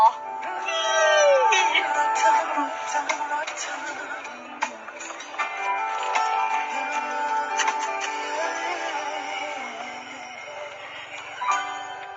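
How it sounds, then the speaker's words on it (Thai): A cat meows repeatedly in drawn-out, insistent cries, close and fairly loud, over a steady background hum. "แค่แมวก็ชอบร้อง"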